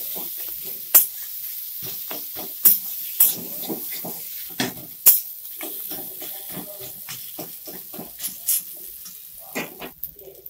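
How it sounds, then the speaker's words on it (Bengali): Potato filling fries in a pan with a soft continuous sizzle, punctuated by sharp scraping clicks and stirring knocks at irregular intervals, close by and without speech. "ভালো করে আলুটাকে ভেজে নেব, এইভাবে পুরটা বানাতে হবে।"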